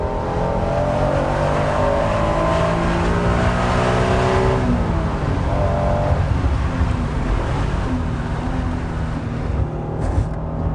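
A 1992 Honda NSX mid-engine sports car engine revs hard and climbs steadily through the gears, a continuous loud, close drone with pitch rising and dipping as it accelerates.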